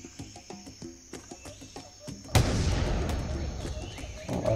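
A grenade blast tears through a ZooKeeper Simulator game scene, a loud broadband burst with a long rumbling tail after a stretch of quieter clicking game noises.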